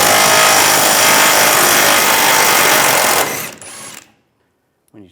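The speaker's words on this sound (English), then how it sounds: "Take a 21mm socket, take this bolt out" A power tool runs steadily for about three seconds while backing out a 21mm bolt from the rear bumper impact absorber of a 2007–2013 Chevrolet Silverado 1500, then cuts off, leaving a brief whir and quiet.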